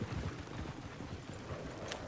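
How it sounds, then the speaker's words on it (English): Horse hooves clip-clop steadily through the Red Dead Redemption 2 video game, dense and continuous, in a busy mix with broad noise throughout. "Oh, shit, the horses!"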